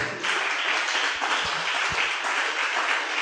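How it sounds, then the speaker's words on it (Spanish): A congregation at a church sermon applauds the preacher, producing a broad, continuous wash of clapping from many hands at moderate volume, with a few low thumps along the way. "Denle un aplauso al maestro"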